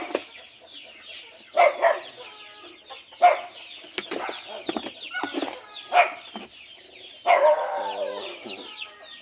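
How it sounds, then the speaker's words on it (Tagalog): Dogs at a farm bark in short, loud bursts spaced a second or two apart, with clucking fowl and other yard noise filling the gaps. "Kahol ng kahol, may tao yan."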